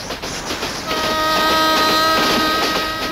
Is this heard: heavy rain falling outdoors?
no